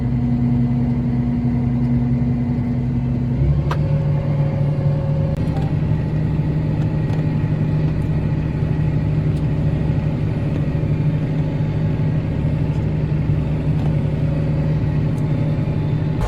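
A tractor drives across a sandy field, its engine giving a steady, close, low rumble that shifts in pitch a few seconds in and then holds through the rest, with no voices.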